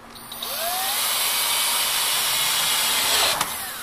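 Power driver sinking a screw into a wooden bench, a steady whirring drone lasting several seconds with a slight rising pitch, close and loud, ending with a brief click.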